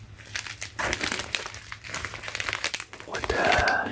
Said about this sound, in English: So it comes with this bubble envelope. I'm going to cut out opening on the side right here